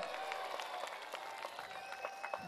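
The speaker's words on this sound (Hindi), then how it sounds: "जोर से ताली बजाइए दोनों के लिए" An audience claps steadily at a BJP public meeting in Secunderabad, a dense continuous patter of many hands that sounds somewhat distant and fills the whole stretch without talk.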